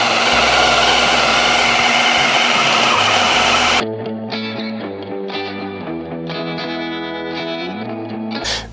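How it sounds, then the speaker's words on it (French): A food processor blends an onion and cheese mixture for croquettes, first a loud, harsh whirring grind for nearly four seconds, then cutting to a quieter tonal passage with shifting held notes. "De toute façon, ça va repasser au mixeur juste derrière."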